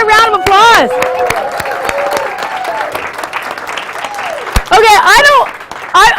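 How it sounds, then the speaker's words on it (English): Audience at a talk breaking into applause, loud sustained clapping from a crowd with whoops and cheering voices over it. "Give everybody a round of applause"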